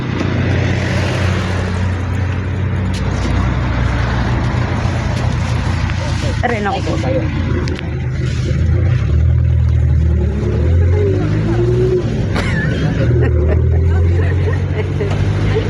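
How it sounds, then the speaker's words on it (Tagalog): Interior of a Philippine jeepney in motion, a steady low diesel engine drone with rumbling road noise and occasional revving, loud and close, with people talking over it. "Sakay kami sa jeep."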